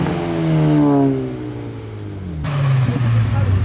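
A turbocharged modified car pulls away from a car meet, its engine note climbing through rising revs, easing off, then surging again close by with a turbo whoosh, while a voice talks over it.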